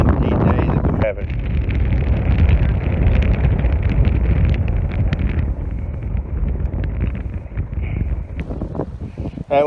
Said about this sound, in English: That wind is getting stronger and stronger